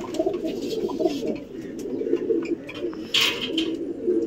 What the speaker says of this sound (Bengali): পায়রাগুলো আমি দেখাতে নিয়ে যাচ্ছি আপনাদেরকে